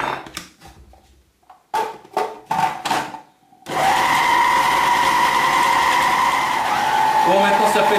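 Short bursts of a kitchen blender pulsing Korean fish cake paste with vegetable oil, then a sustained loud whirring run; a voice is heard in the brief pauses.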